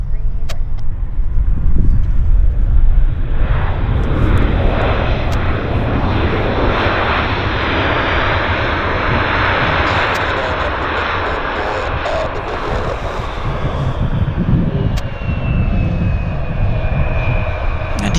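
Loud, continuous jet airliner roar of a plane landing at Vancouver's YVR airport, close and sustained throughout with a broad rumbling whoosh, no talk over it.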